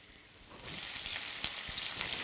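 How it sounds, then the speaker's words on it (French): Sardines dropped into hot frying oil over a lit burner set off a soft, steady sizzle with scattered crackling pops, rising slightly and continuing alone without speech. "Je vais faire chauffer un peu d'huile de friture. J'allume mon feu. Donc on va commencer à déposer nos sardines"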